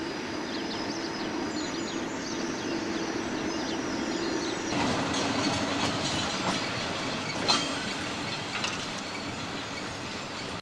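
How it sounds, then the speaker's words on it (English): A coal train runs along the main line between Rhymney and Cardiff near Ystrad North in South Wales, with a continuous rolling rumble and wheel clatter that grows busier midway, plus a few sharp metallic clanks; birds chirp faintly early on. "The train rejoins the main line from Rumney to Cardiff at Ystrad North."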